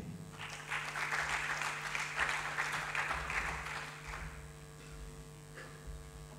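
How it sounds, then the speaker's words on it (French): Audience applause at a French eloquence debate, a steady wash of clapping that swells then thins out over a constant low electrical hum, with no voices. "On applaudit s'il vous plaît."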